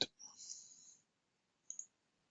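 A computer mouse gives a sharp click, followed by a brief hiss-like tone and a second short click near the end, all faint against near silence.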